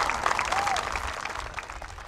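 A crowd applauds a band at a university welcome event, a moderately loud stretch of scattered clapping with a few sharper claps and faint voices mixed in.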